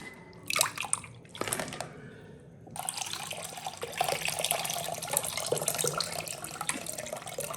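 Water pours steadily into a bowl of soaked tamarind while fuchka is being made, a continuous close splashing stream that follows a few brief handling knocks.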